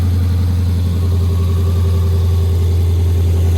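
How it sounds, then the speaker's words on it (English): A 2021 Dodge Charger R/T V8 fitted with a JLT cold air intake idles loudly and close by in a deep, steady rumble with a slight rise in revs. "Sounding pretty mean. Yeah. Sounding pretty mean."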